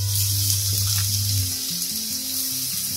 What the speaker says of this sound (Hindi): यहाँ पे देखिए हमारा जो तेल है वो अच्छे से गर्म हो चुका है, इसमें जल्दी से हम डाल देते हैं प्याज